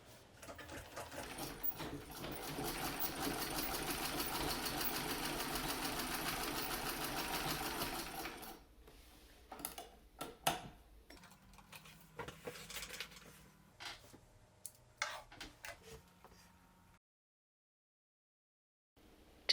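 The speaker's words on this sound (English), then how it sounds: "Place your fabric beneath the needle, lower the presser foot, and turn the hand wheel and treadle with your feet now." A Singer 127 treadle sewing machine stitching fabric, a rapid even rattling run for about eight seconds, then slower intermittent clicks and knocks of the mechanism before a brief silence.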